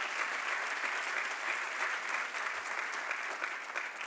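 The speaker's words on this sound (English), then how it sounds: "Another round of applause because of Stephen." Applause from a press conference audience at a Detroit innovation center event, a steady dense wash of clapping that holds evenly at moderate, somewhat distant level for about four seconds with no voices.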